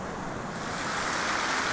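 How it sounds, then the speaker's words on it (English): Water rushing under a bridge, a dense steady wash of flowing water that grows slightly brighter and louder over the short stretch, with no voices. "So I'm sitting here watching all of this water just pass under this bridge."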